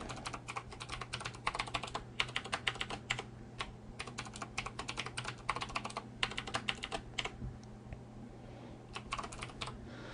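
Password being typed on a computer keyboard while setting up a Windows 7 Home Premium user account: a steady run of quick, close key clicks in bursts, with brief pauses, over a low constant hum.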